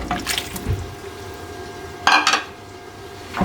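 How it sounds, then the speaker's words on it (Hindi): Water poured into a pot of mutton curry with potatoes, a quiet liquid splash with a brief louder clatter of pot or utensil partway through, no speech. "यानी तकरीबन आधा किलो मैंने पानी डाला है।"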